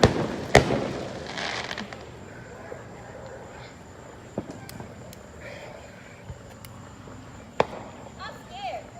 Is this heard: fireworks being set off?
yes